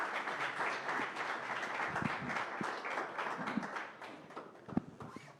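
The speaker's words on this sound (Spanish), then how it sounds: "Un fuerte aplauso, por favor." Steady applause from a crowd at a forum on journalism and disinformation, a dense wash of clapping that carries on for several seconds and gradually thins toward the end.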